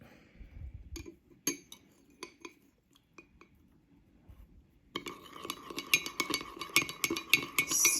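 A metal spoon clinks against a mug while mixing brownie batter with egg yolk, first in scattered taps, then in a quicker run of close clinks and scraping.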